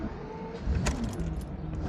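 The V12 engine of a BMW E31 850i runs at a steady idle under a jangle of keys, with a brief louder thump partway through and no talk.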